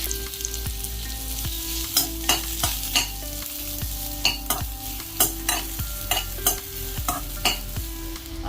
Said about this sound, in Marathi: आता आपण चिरून घेतला थोडासा कांदा आहे तो भाजून घेऊया.